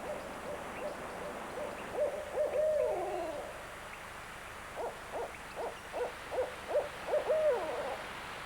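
A barred owl hoots in a wild forest setting, an early short series followed by a longer rhythmic run of deep hoots, clear and moderately distant over faint background hiss.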